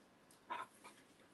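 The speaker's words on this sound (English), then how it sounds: "My dog is doing random stuff, making noises and everything." A dog gives a brief, faint whimpering whine with a few soft panting noises, close by in an otherwise quiet room.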